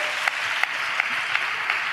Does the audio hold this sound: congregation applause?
yes